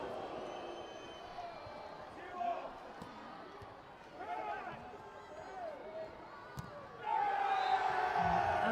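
Arena crowd at a Rio 2016 Paralympic men's sitting volleyball bronze match between Brazil and Egypt, a murmuring hubbub under a commentator's voice that rises into loud cheering near the end.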